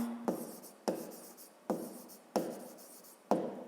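Pen strokes on paper during a fifth-grade maths exercise, five distinct scratchy marks repeating at an even pace, each a sharp start trailing off, fairly close and quiet with no talking.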